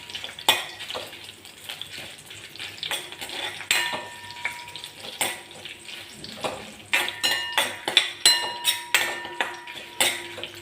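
Dried red chillies fry in a pan for pesarattu chutney, with repeated clinks and scrapes of a utensil against the pan over a soft sizzle that grows busier toward the end.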